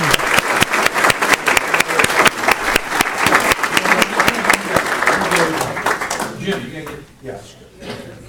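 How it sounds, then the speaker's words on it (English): An audience at a volunteer recognition event applauds District 6 volunteers with steady, dense clapping that fills the room before thinning out and fading toward the end. "So a round of applause for the folks from District 6"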